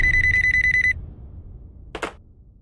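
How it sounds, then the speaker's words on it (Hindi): A telephone bell rings loudly in a rapid pulsing trill for about a second, then stops, followed by a brief clatter like a receiver being picked up. "त्रिशा दीदी, आपके लिए फोन है।"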